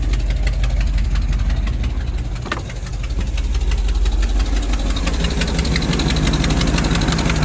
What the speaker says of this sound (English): Kick on the generator on the house AC on the way home.